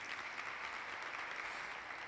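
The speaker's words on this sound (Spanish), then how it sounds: "Un aplauso para Leandro." Audience applause at a church-style gathering, a steady, fairly faint wash of clapping heard alone throughout.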